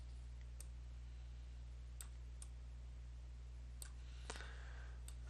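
Faint, sparse mouse clicks, single sharp ticks spaced irregularly over a steady low electrical hum, with no talking.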